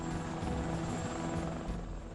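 Black Hawk helicopter in flight near a newly built forward fuel base in Iraq, a steady loud rotor thump and turbine whine filling the whole stretch without a break.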